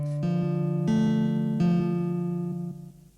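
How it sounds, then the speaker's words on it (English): A Korg Volca FM classical guitar preset plays a few sustained plucked chords in sequence, bright and clear, fading out at the end. "the classical guitar for your plucked sounds"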